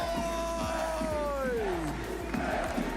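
Large live crowd at the Fortnite FNCS Summit LAN finals, an esports event, roaring and cheering in a continuous, dense wall of sound with a rising and falling whoop cutting through near the start.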